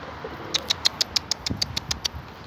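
Pigeons call in a quick run of about a dozen short, evenly spaced chirping notes, close and fairly loud over a soft rustling background, with no voices.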